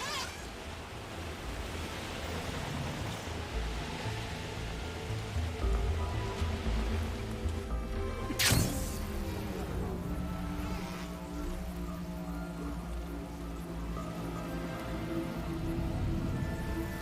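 Steady, dense rain hisses continuously across a game world in Horizon Forbidden West, with a sharp splashing burst around the middle before the downpour settles back to an even wash; no voices.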